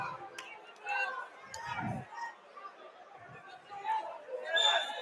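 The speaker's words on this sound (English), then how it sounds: "There's that crowd, man." Crowd chatter fills the gym at a high school wrestling tournament, a steady murmur of many voices with occasional louder calls and brief bursts. It sits at moderate level with no single voice dominating.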